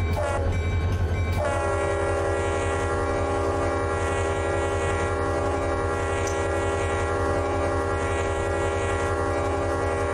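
A CSX freight train in the Run 8 Train Simulator game sounds a long, loud, sustained horn over a deep engine rumble after a brief burst of noise at the start, close and steady, with no voices.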